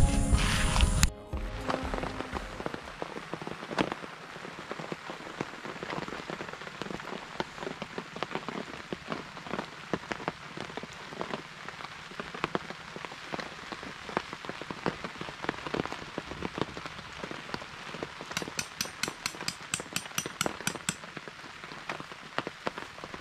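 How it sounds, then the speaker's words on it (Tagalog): Rain falling at a campsite, a steady dense patter of drops on surfaces with sharper individual taps throughout, moderately close and continuous after a brief louder noise at the start. "So, tingin ko, hindi lang kagabi yung mararanasan naming ulan, pati ngayong araw."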